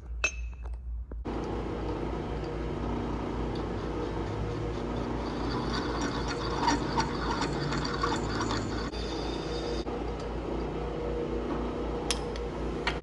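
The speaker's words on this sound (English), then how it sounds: "I go ahead and run this tap in" A 3/4 inch tap being run into a part held in a lathe chuck, with quiet ratcheting clicks and metallic clinks over a low steady machine hum.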